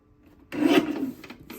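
Stacked paper strips for a dog scrapbook page kit being trimmed together, a single close rasping cut about a second long with no speech.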